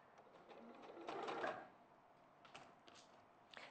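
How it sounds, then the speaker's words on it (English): Sewing machine stitching a quilt block, running in a short steady burst near the start and then pausing with lighter intermittent mechanical clicks and handling noise; faint and close. "I'm still sewing them all the way along."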